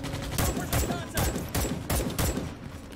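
Automatic gunfire comes in repeated bursts, roughly five close rapid volleys over steady game background noise, in the Starship Troopers: Extermination video game.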